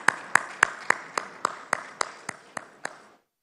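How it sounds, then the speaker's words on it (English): About eleven sharp, evenly spaced hand claps sound close and fairly loud as applause at a cricket player auction for the 2024 LPL, slowing slightly and fading before ending in silence. "Let's have a round of applause."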